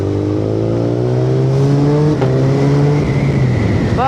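A Suzuki Hayabusa Gen 3 engine revs loud and close under a twisting throttle, its pitch climbing steadily across several seconds with a brief dip midway before rising again.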